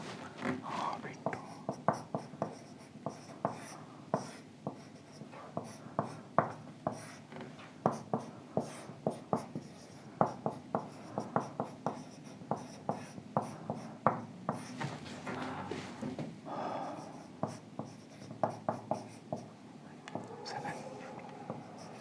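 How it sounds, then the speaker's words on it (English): Chalk or marker scratches and taps steadily on a lecture board as a mechanics diagram is drawn, a long run of quick strokes with short pauses, fairly quiet and close, with faint murmuring underneath. "I'll first write something here to save time."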